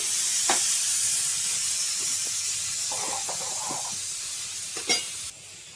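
A pressure cooker holding soaked chana dal lets off a steady, bright hiss of steam that slowly fades, with a few light clicks before it stops abruptly near the end.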